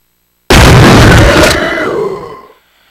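Grenade launcher firing a flame round in Resident Evil 2, a single loud close burst that roars for about a second, then fades in a rumbling tail over the next second.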